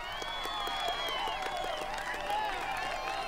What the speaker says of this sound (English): Oh, the good old slow clap.